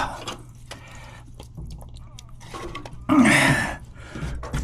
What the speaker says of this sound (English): it's a ton of water coming out